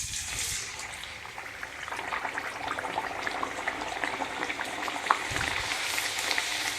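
Chausela, a Chhattisgarh breakfast bread made from new rice flour, fries in hot oil with a loud, steady sizzle and bubbling that fills the whole stretch without a break.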